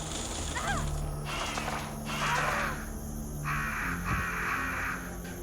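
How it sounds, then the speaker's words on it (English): Crows caw repeatedly in the original Resident Evil, harsh rasping calls coming in overlapping bursts over a steady droning game ambience. "if you don't, these crows descend on you"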